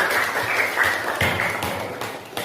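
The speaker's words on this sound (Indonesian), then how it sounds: "kita beri aplaus untuk kita" Classroom audience applause, a dense, continuous wash of clapping from a group, fairly loud and close, holding steady before easing slightly near the end.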